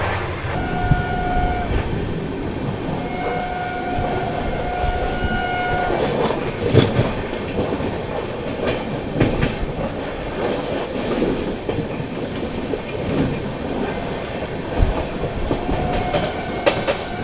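The Gitanjali Superfast Express, Howrah to Mumbai CSMT, runs at speed with continuous rumbling and clickety-clack of wheels on track, plus a few sustained horn tones early on, heard close from on board.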